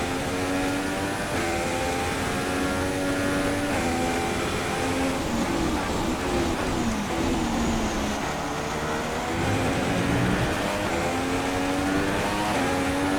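Formula One race car engine in F1 2016 at the Australian Grand Prix, a loud, continuous high-pitched whine that rises and falls through gear changes for the whole stretch, close and alone.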